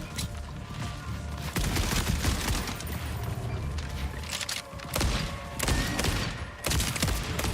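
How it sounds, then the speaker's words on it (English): Gunfire from a sniper rifle fired at close range in the video game Borderlands 4, heavy repeated shots and thuds cracking over a dense, busy mix of game noise. "We just use this sniper rifle on close range."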